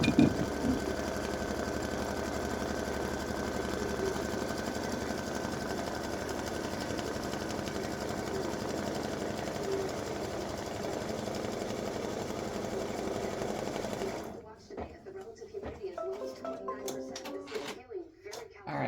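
An embroidery sewing machine stitches craft fuse in a fast, steady mechanical whir with rapid needle chatter, loud and continuous for most of the stretch before stopping, after which a person talks.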